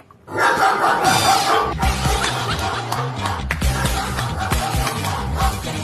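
A voice mimics a dog barking, a string of loud, rough yelps and gruff bursts with short pauses between them.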